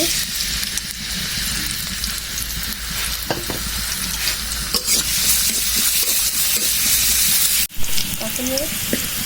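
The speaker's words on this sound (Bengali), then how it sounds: "ভাজতে ভাজতে পেঁয়াজ রসুনগুলো যখন লাল হয়ে যাবে" Chopped onion and garlic fry in hot oil, a loud, dense sizzle with intermittent scraping stirs and a sharp clatter near the end, a voice faintly audible beneath.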